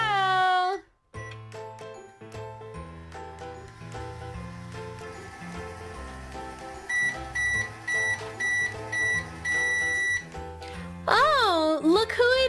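A toy microwave hums along with a rhythmic series of electronic beeps and tones, and playful character voices are heard over it at the start and end.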